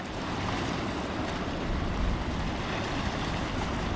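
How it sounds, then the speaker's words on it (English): Turbulent water of the Orange River churning in a large maelstrom with waves, a steady broad roar with wind buffeting the microphone, close and continuous without talk. "The river makes a huge maelstrom here."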